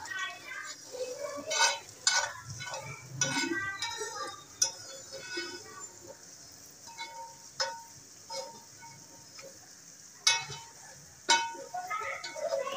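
Masala with coriander fries in a pan, with intermittent sizzling, clinks and scrapes of a stirring spoon against the pan close by, and someone talking now and then over the cooking.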